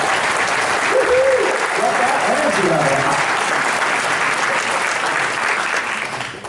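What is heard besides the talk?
audience applause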